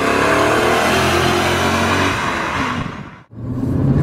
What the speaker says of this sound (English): the instant response of this engine feels amazing, and it sounds so fluid